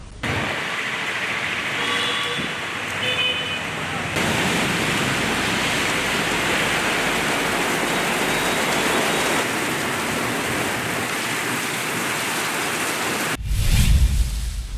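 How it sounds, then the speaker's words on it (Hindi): Steady, dense rain pours onto a street that is flooding with water, a loud continuous hiss with no talk, ending with a brief low rumble and a sudden cut. "कुछ मिनटों की बारिश में सड़कों पर पानी जमा हो गया"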